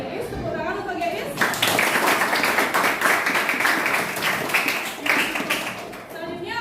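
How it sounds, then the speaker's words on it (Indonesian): Classmates clap together for a student in a school classroom: a dense burst of applause lasting about five seconds, with voices before and under it. "Tepuk tangan untuk Geis."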